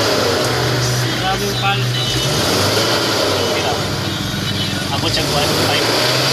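A Kia Sportage engine fitted with a power tube runs in a loud, steady rumble with rising revs, while people talk over it throughout.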